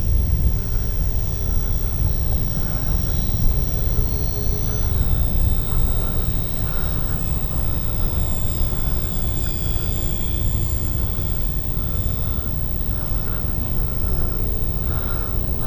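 An RC model OV-10 Bronco airplane takes off with flaps set, its motors giving a continuous broadband roar mixed with a shifting high whine, steady and fairly loud throughout.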